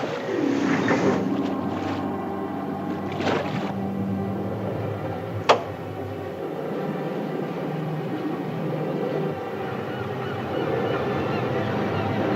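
A ship's engine runs at slow speed while the vessel heads down a bay, a low, steady rumble under gusty wind noise, with a single sharp click partway through.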